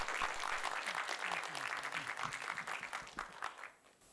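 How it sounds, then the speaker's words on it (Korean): Welcoming a lecturer at a history lecture event, an audience breaks into dense, warm applause that holds steady for several seconds and then thins out and fades near the end. "뜨거운 박수로 제1강연을 부탁드리겠습니다."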